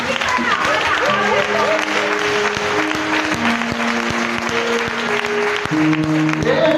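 A congregation applauds in an evangelical church, sustained dense clapping with voices and musical tones running underneath.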